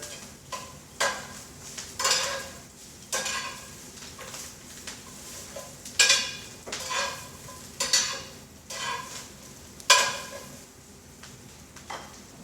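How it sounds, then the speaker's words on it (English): Kale cooks in a pan over very low heat, with a soft background sizzle broken by regular, roughly once-a-second scraping stir strokes of a utensil against the pan. "We're going to turn this down to a very low heat and just let that kale cook for a little bit."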